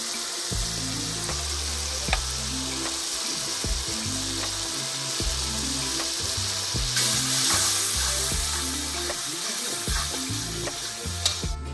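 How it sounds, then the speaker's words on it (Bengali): Garlic paste sizzling and frying in a pan for mutton curry at an outdoor picnic, a steady crackling hiss throughout with soft stirring scrapes and a brief louder burst of spitting near the end. "দিয়ে দেওয়া হচ্ছে এখন রসুনের পেস্ট।"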